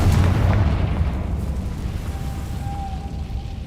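A loud, booming Confringo explosion spell from Hogwarts Legacy bursts at once, then rumbles and slowly fades over a few seconds, alone with no talk.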